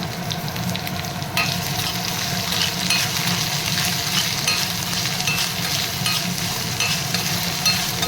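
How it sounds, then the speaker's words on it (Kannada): Oil frying in a pan at the start of cooking palak rice, a steady close sizzle with occasional stirring scrapes, continuous and fairly loud with no talking. "ಸ್ವಲ್ಪ ಫ್ರೈ ಮಾಡ್ಕೊಂಬಿಡೋಣ."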